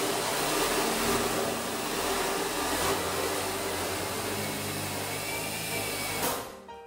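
An industrial JACK straight-stitch sewing machine winding a bobbin, giving a steady, close whir that runs evenly for several seconds before cutting off near the end.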